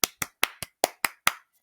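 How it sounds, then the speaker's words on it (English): Seven sharp hand claps in a steady, even rhythm, close and crisp, with no voices over them. "clapping with me."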